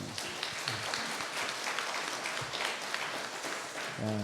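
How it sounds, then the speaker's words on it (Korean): A church congregation claps during a Sunday worship service, with sustained, fairly loud applause filling the hall and a voice briefly heard near the start and again at the end. "우리 박수 한번 드립시다."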